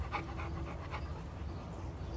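A large XL Bully dog pants rapidly and steadily at close range, quick rhythmic breaths over a low background hum with no voices.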